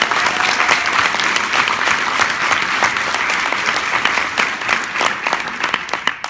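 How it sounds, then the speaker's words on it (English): Steady applause from an audience at a keynote talk, dense and sustained throughout with no voices over it. "Yeah, let's clap it up."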